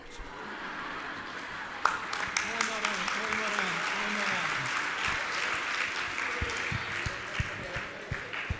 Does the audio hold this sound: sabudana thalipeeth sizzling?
no